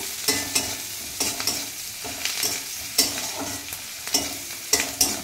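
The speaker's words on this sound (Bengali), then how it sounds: "এবার কারণ যেহেতু কাঁচা রসুন একটু ভেজে নেব" Raw garlic fries with onions in a pan, a close sizzle punctuated by sharp, regular spatula scrapes roughly every half second.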